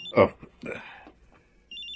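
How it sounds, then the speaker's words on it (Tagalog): A cellphone ringtone chirps at the start and again at the end during a late-night family scene at home in a Filipino drama, with voices talking in between. "Florante, may tumatawag sa cellphone mo."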